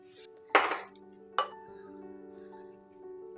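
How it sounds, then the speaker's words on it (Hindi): Two sharp clinks of an egg being cracked against a bowl while chicken shashlik coating is mixed, the second strike lighter, followed by a low steady hum of the kitchen. "इसमें अब 1 अंडा मैं तोड़ के शामिल कर रही हूँ और इसको अब मैं अच्छी तरह मिक्स कर लूँगी।"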